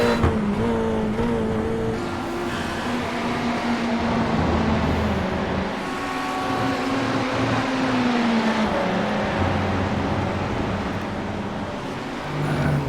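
Race cars, including an Audi and a Ferrari, lapping in the iRacing simulator, engines whining and shifting pitch as they rise and fall through corners, with a second car's engine overlapping near the end.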